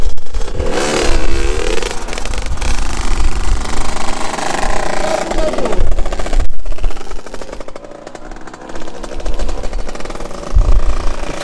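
A Derbi Senda 50cc motorbike engine revs loudly and repeatedly, whining up and dropping back, close by with a buzzing, rattly tone.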